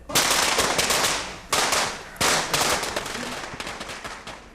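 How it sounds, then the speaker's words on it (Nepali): Firecrackers burst in loud, sharp crackling volleys, three main bursts of rapid popping that trail off into scattered snaps close by. "त यो पटक्का पड्काउने काम पनि मैले एकचोटि गरेको छु"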